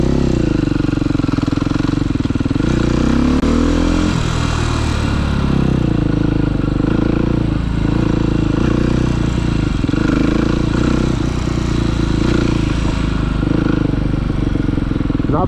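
A motorcycle engine holds a loud, steady drone while the rider practises a slow wheelie in fourth gear, with a brief pitch swing early on and then a sustained, near roar.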